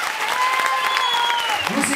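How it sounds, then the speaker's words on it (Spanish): Applause from a crowd at a children's festival gala crowning the young king and queen in Albelda de Iregua, a steady dense patter with a voice and a little music rising near the end. "¡Ese aplauso para Borrego de Fiesta!"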